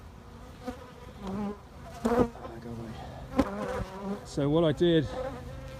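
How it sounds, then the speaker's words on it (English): Bees from a late October swarm buzzing around and fanning on a hive box, with individual insects droning close by in rising and falling bursts while someone speaks briefly. "no bees on the branch, on the tree. They're all in the box, and there's a few fanning on the box"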